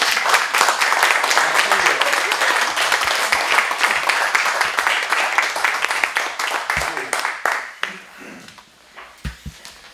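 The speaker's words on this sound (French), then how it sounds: "on applaudit les élus" At the installation session of a French municipal council, the room applauds the newly elected members: brisk, loud clapping that thins out after about seven seconds into a few last scattered claps, then voices talk.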